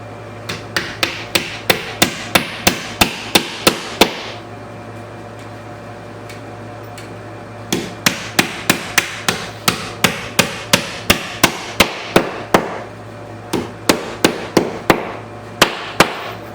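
Drywall nails hammered in steady series of sharp, loud blows, a burst of about a dozen strikes, a pause of several seconds, then more rhythmic runs of hits, close and with no talk.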